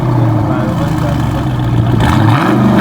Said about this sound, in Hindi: एग्जॉस्ट बहुत तगड़ा भाई